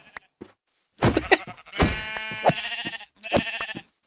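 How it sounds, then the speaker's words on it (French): Sheep bleating in the Minecraft video game, several short wavering cries in quick succession, clear and close with brief silences between them. "Ah non, c'est un mouton."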